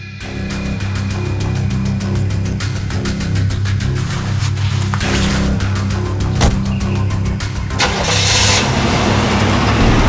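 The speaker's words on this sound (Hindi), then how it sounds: "गाड़ी चलाओ।" A car engine turns over and settles into a steady running rumble before the car pulls off to drive, loud and close throughout with no talking.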